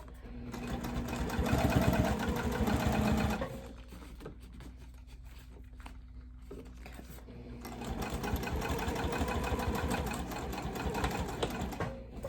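Sewing machine stitching a backpack with stay stitches, bursts of fast rhythmic needle patter separated by a quieter pause, close and alone.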